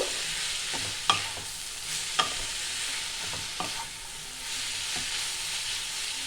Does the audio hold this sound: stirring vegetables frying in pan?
yes